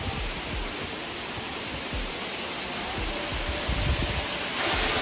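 A loud waterfall in a park in Gifu, Japan, roars as a steady, close wash of rushing water that fills the whole clip without a break.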